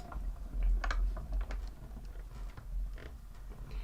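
Scissors or a craft trimmer cutting cardstock for papercraft cardmaking, with a run of short crisp snips and rustling paper that come in clusters at close range, with no talk over them.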